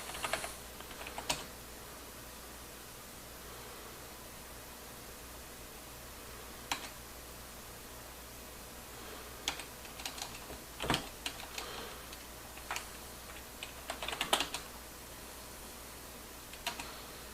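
Typing on a computer keyboard while installing Ubuntu, heard as sparse bursts of clicky keystrokes with long pauses, quiet and close over a faint steady hum, no voices.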